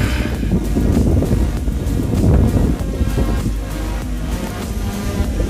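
Water rushes and churns in a continuous broadband wash, loud and close, with some wind buffeting the microphone and no voices.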